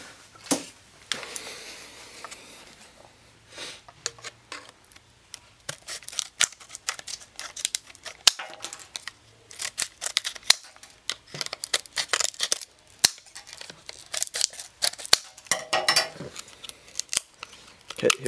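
Scissors snip and cut through the plastic and cardboard packaging of a 2GB iPod Shuffle, with crinkling and tearing between cuts, close up and alone with no talk.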